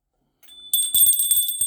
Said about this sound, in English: Ring the bell for good luck and good measure.